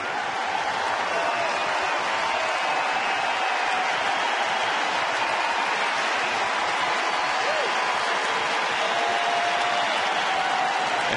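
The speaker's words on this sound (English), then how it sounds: "An appreciative crowd." A baseball crowd at a Rangers–Angels game claps and cheers in a sustained, fairly distant wash of applause that fills the whole stretch without letup.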